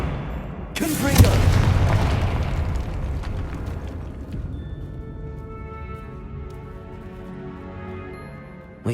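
A Confringo blasting spell detonates in a tomb in Hogwarts Legacy on PS5, a sudden loud boom that rolls into a long rumbling, crackling decay with scattered debris and fading ringing tones.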